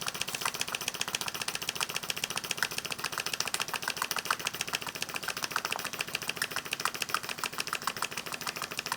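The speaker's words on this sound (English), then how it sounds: "so pretty efficient little steam engine." A tiny governed steam engine running on about one pound of pressure gives off a fast, steady stream of light chuffing ticks, even and continuous at low volume.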